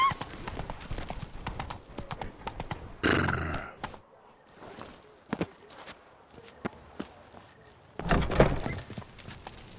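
Hooves of the horse Roach clop steadily in The Witcher 3, a moderately near walking rhythm with a few louder thunks and bursts of movement, no voices.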